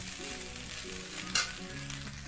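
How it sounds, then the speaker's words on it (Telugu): Cooked rice for restaurant-style vegetable fried rice frying in a hot pan, giving a steady close sizzle with a brief louder burst partway through, no voices. "రైస్ బాగా ఫ్రై కావాలి అప్పుడే మనకు ఫ్రైడ్ రైస్ మనకు టేస్ట్ వస్తుంది"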